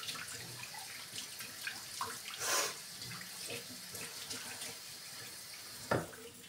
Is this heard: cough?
no